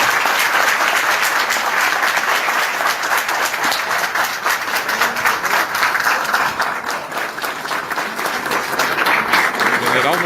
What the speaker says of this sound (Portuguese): General Mourão, aplaudido pelos empresários CDL aqui de Uruguaiana